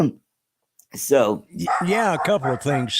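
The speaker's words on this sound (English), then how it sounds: "Sorry about the dogs," Dogs barking and yipping in a home while someone talks over them, the barks mixed in with his speech at close range.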